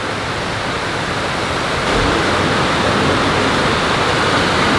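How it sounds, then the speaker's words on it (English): Water pours continuously into the huge 9/11 memorial pool, a loud, dense, unbroken roar like a waterfall that stays steady from start to finish with no voices. "a huge pool flowing continuously with water"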